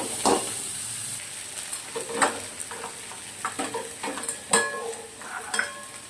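Potatoes fry in a pan with onion, ginger and garlic, giving a steady sizzle. Repeated scraping and stirring clinks from a utensil sit on top of it at close range.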